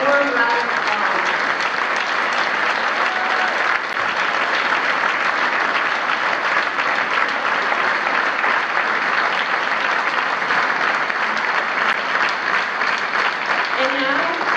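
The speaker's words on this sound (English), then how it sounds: "Please give them all a warm round of applause." Audience applause at a ceremonial celebration carries on as dense, steady clapping for the full stretch, loud and even, with brief speech at the start.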